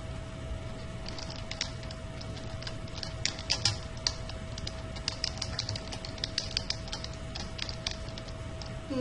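Typing on a keyboard to reply to a comment: steady, fairly close clicks and clacks of keys in irregular bursts, with a faint constant tone in the background and no talking.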